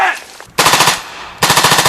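Automatic gunfire at a Korean combat training center during a simulated surprise attack, two loud bursts of rapid, evenly spaced shots separated by a short pause, close and dominating.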